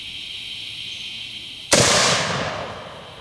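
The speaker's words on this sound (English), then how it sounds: "You can definitely tell that that is some serious buckshot" A single loud shotgun blast firing buckshot, sudden and close, with a ringing decay that fades over about a second after a steady hiss of quiet outdoor background.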